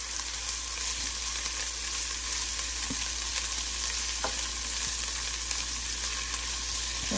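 Ginger garlic chilli paste fries in a pan with a steady close sizzle, punctuated by a few soft scrapes of a spoon stirring it, no voices.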